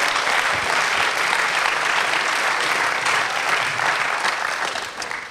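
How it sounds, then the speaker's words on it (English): An audience at an evening talks event applauds for the sponsors, a thick, continuous wash of clapping from a full room that holds steady and tapers off near the end. "Maybe we can give them a round of applause."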